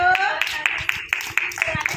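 Children clap their hands in a quick, steady rhythm of about four sharp claps per second, close by, with young voices chattering underneath.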